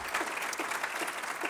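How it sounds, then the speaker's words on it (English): Steady applause from a conference audience for a panel discussion, dense clapping that holds at an even level throughout. "please give a massive round of applause to our panelists."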